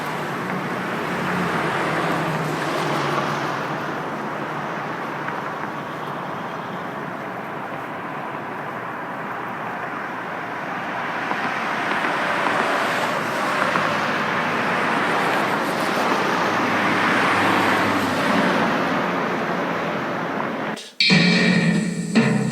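A car drives along a road, heard as a steady, continuous rumble of engine and road noise that holds for about twenty seconds before an abrupt change at the end.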